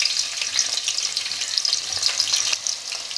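Onions and green chillies frying in hot oil, a dense, even crackling sizzle close up with faint stirring, no voices.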